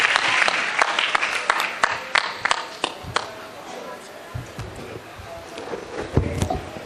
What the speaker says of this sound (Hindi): जोरदार तालियों से स्वागत करें डॉक्टर राकेश यदुवंशी